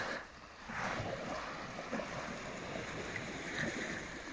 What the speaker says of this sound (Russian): Небольшие волны, барашики у берега накатывают чуть-чуть.